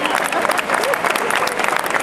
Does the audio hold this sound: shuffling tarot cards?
no